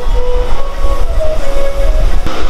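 A passenger train bound for Bardhaman Junction rumbles loudly from inside a carriage, with a heavy low roar, rattling and faint tonal whines from the wheels and rails.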